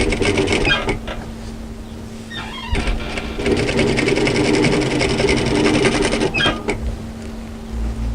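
A home sewing machine runs in sustained bursts while stitching down the facing on a V-neck camisole, with brief pauses between runs and light handling noises.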